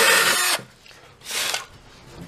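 A power drill bores a bolt hole through wood while a guitar neck is attached, with two short bursts of whirring, a loud one at the start and a second after a brief pause.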